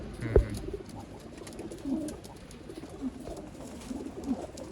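Old-line racing pigeons at a loft in Bangalore coo softly, with a few low, throaty coos spaced out over a faint steady background hiss.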